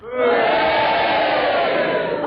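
A studio audience at a panel game show roars together in one loud sustained crowd response, mixing cheers and boos into a broad wash of voices that swells quickly and holds for about two seconds.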